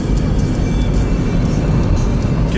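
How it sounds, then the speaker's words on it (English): A second-generation Toyota Prius engine misfires at idle, producing a loud, continuous, close-up rumble of engine noise throughout. "Well, it's definitely misfiring."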